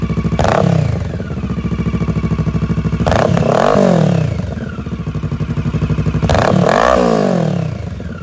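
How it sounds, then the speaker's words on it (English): A 2016 Kawasaki Versys 650 with an IXIL L3XB muffler, both baffles removed, idles with a loud, raspy exhaust burble up close, broken by three sharp revs that rise and fall. "that's what the IXIL L3XB muffler sounds like"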